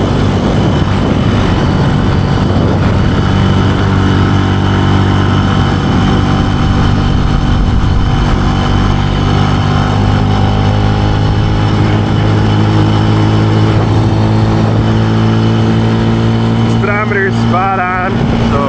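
A Benelli TNT135 motorcycle runs at about 35 mph, its engine droning loud and steady with wind rush throughout, and a brief voice is heard near the end.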